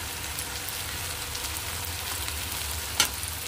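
Six or seven dried red chilies fry in hot oil with garlic, giving a loud, continuous crackling sizzle at close range, with one brief sharper pop near the end.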